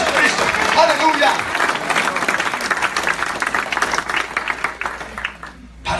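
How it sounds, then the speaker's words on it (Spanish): A church congregation breaks into dense, sustained applause during a Spanish-language sermon, loud and continuous with a few cheers before fading out abruptly at the end. "Denle un aplauso al Señor Jesucristo."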